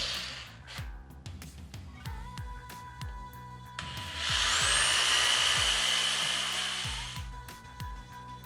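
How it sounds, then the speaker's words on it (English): A power drill whines loudly for a few seconds while drilling holes in a guitar body, rising and then winding down, with clicks and handling knocks before and after. "we're not quite done drilling holes yet"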